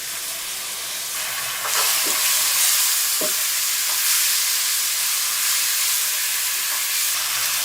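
Spice paste of ground garam masala and tomato paste frying in oil for a beef curry, a steady close sizzle that swells after a couple of seconds, with a few scrapes of stirring.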